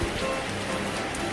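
Steady rain falls outdoors near a gate, a continuous close hiss of drops on surfaces with no voices over it.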